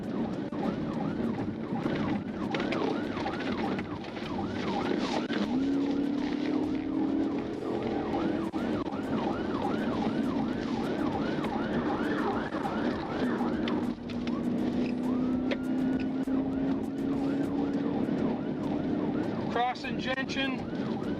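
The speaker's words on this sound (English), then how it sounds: "Lots of traffic." Road traffic heard from inside a state trooper's car during a pursuit on curvy roads, with a siren wailing and cycling continuously over steady engine and tyre noise, a voice talking throughout.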